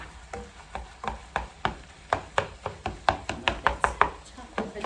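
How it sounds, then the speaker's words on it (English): Meat being finely chopped for a taco bake with a handheld chopping tool, a quick series of sharp, close knocks that speed into a steady rhythm, with no talking over them. "This thing is so handy to get your meat finely chopped up"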